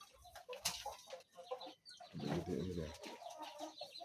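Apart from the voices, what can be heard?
Siam Bangkok chicken clucking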